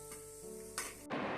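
Ottai vadai, a flat Tamil fritter, fries in hot oil with a steady, close sizzle that swells into brighter bursts of crackling.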